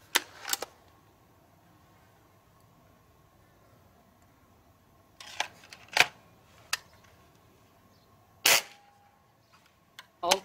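Hatsan Striker Edge air rifle fired through a chronograph using Gamo Rocket 14.5-grain ball-tipped pellets, sharp sparse cracks spaced a few seconds apart over a faint steady hum, fairly close.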